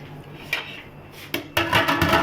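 Ceramic plates clink and knock against a kitchen sink in a few separate sharp contacts, the last one louder with a brief rattle.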